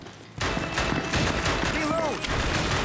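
Gunshots in the House of the Dead Remake video game, a rapid stream of loud shots firing close and continuous, with someone talking over them.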